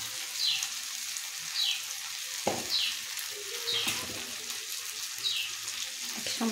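Ground cumin and turmeric sizzling as they fry in a pan, a steady close crackle with soft periodic scrapes and stirs running through it.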